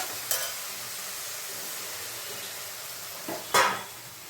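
Kashmiri red chilli powder sautéing in a pan for misti kumror dhokar dalna, a soft steady sizzle with a couple of sharp utensil scrapes and knocks against the pan.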